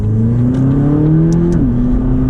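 A McLaren 570GT sports car engine revs loudly and steadily, its pitch climbing smoothly and then dipping, close up with no voices.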